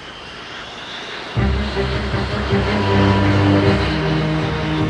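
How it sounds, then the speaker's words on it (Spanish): Coalition military airplanes roar loudly with a deep droning engine rumble that suddenly grows louder and holds steady, with no one talking over it. "170 aviones de la coalición se preparaban para atacar."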